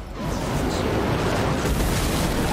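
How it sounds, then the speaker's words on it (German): A dense, roaring wall of explosions from the video game Marvel Midnight Suns fills the whole moment, loud and continuous with a rumbling, crackling texture. "Oh, stimmt, die explodieren ja alle."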